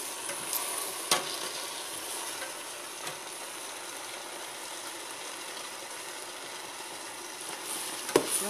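Collard greens simmering in a pan with apple cider vinegar, giving a steady soft sizzle with light stirring scrapes and a couple of sharp utensil clicks, close and fairly quiet with no talking.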